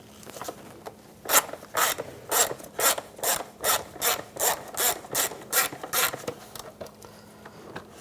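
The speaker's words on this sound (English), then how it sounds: "using a T20 socket, I'm going to take the screws out of the airbox" A T20 socket ratchets out the airbox screws on a 2007-2013 Mini Cooper, giving about a dozen close, evenly spaced rasping clicks in a steady rhythm with no talk.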